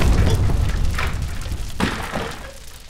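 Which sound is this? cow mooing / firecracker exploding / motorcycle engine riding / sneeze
firecracker exploding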